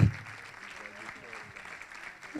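Moderate clapping from an audience at a human rights defenders awards ceremony, greeting the jury members as they come forward, a soft steady patter at fairly low level throughout with a brief louder burst at the start.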